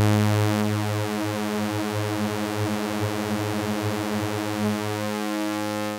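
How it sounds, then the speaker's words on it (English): A Happy Nerding Super Sawtor Eurorack module thickens an incoming signal into a dense unison drone, a buzzing sawtooth-like tone with slow beating and shimmering detune, held steady and loud for about six seconds. "which is designed to produce unison type effects on an incoming signal."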